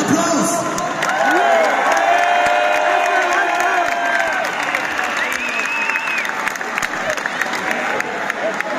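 Concert crowd at a live show in Nürnberg clapping and cheering for a band member, loud sustained applause with whoops mixed in alongside lingering tones from the stage.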